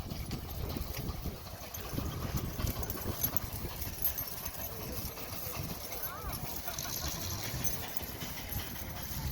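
Horse team hooves clip-clopping at a threshing bee, a faint irregular patter of hoof steps mixed into a busy outdoor background with a low rumble and wind throughout.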